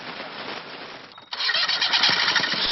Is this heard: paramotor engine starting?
yes